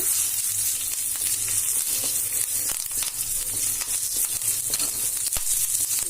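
Fenugreek seeds and curry leaves fry in a pan with a steady, dense crackling sizzle that holds close and loud throughout, broken by small sharp pops and stirring scrapes.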